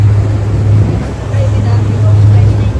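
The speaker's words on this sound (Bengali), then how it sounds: "আবার বোটে করে দেরা থেকে আলসিপ যাচ্ছি" A boat ride on the water from Deira to Al Seif, with a steady low engine drone and wind rumble running throughout, voices talking faintly over it.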